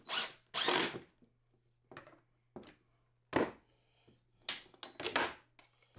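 A power drill with a pocket hole bit bores into a 2x4 wood piece in several short bursts of varying length, close and sharp with quiet gaps between, no talking.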